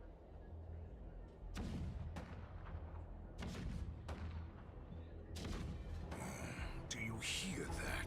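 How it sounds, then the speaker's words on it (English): Cannons rumble in the video game Honkai Star Rail, with deep booming blasts rolling in one after another over a constant low rumble, some closer and sharper, amid a busy game soundtrack and voices. "Do you hear that? The rumble of the cannons."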